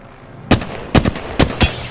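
Gunfire in Apex Legends comes as several sharp, loud shots in short clusters, a single crack followed by quick pairs of rapid bursts.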